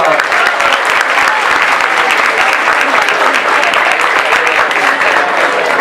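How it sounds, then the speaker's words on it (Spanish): Studio audience at a Spanish-language science talk applauds steadily and loudly, a dense, sustained wash of many hands clapping for the whole stretch with no speech over it. "Un aplauso, por favor."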